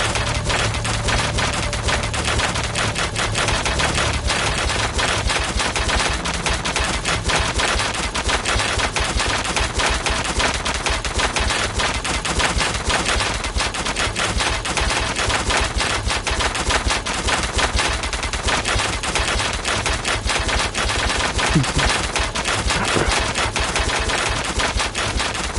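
Dense, relentless rapid-fire crackling bursts from the glitched lightning bow in Call of Duty zombies map Der Eisendrache, loud and continuous throughout with no pauses, like sustained automatic gunfire.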